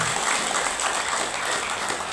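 A crowded gathering gives a steady wash of many hands clapping at once, even and continuous throughout without any pause.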